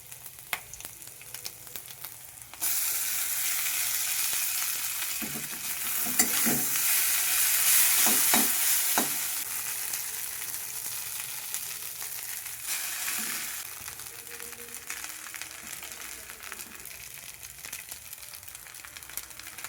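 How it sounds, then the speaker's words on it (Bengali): Chow mein noodles being stir-fried in a hot pan, a loud, steady sizzle broken by scraping stirs and bursts of clattering toss, close up with no voices. "ভাজা ভাজা হয়ে গেছে, এবার চাউমিন দেবো"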